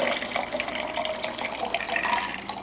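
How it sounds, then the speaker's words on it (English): Water poured out of a glass canning jar of sprouting garden seeds, a continuous close trickling and splashing stream for a few seconds, no talking. "take the water out like that,"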